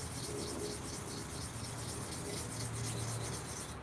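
A Spyderco knife in HAP40 steel is drawn across a sharpening stone, a quiet, continuous rasping scrape with rhythmic strokes, and faint pigeon-like cooing in the background.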